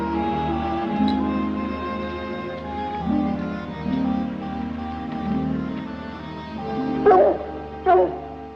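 Buck, a dog, lets out a series of short, near whimpers and soft yelps, then two louder sharp barks close together at the end, over a quiet background of soft music.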